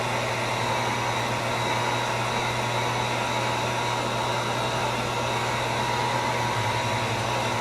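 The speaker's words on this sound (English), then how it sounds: "you don't hold this heat gun too close or too on one spot for too long, because it will" A heat gun blowing hot air onto a plastic scale model, a steady, loud whooshing hiss with a constant motor hum throughout, alone without talk.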